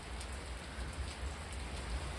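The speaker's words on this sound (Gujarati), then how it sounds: "વરસાદ ખોટો આવી ગયો" Heavy rain pours steadily in an even, dense hiss with a low rumbling undertone, fairly soft and unbroken, and no voices.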